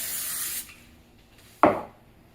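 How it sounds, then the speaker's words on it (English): A steady hissing spray of cooking spray onto a pan lasting about half a second, followed by quiet and then a sharp clatter. "I'm just going to spray it."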